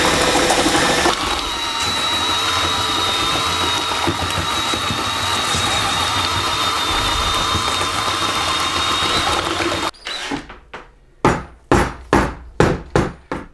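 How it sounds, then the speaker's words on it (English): Paddle mixer churning self-levelling floor compound in a bucket: a loud, steady motor drone with a high whine for about ten seconds, then it stops and a series of sharp knocks follows. "So I've just mixed one of those tubs using a mixing paddle"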